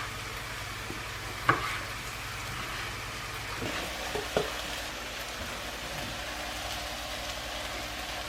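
Kedgeree of rice, flaked fish, cherry tomatoes and coriander sizzling in a pan, a steady quiet frying hiss with a few soft scrapes and clinks as it is stirred.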